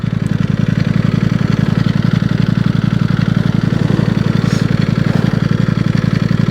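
Ducati V4S motorcycle engine running close by with a loud, steady low rumble and a rapid even pulse throughout, no voices over it.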